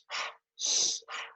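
A person draws in a big, deep breath through the nose and mouth: three close, breathy bursts of air, the middle one longest and loudest, with no talking.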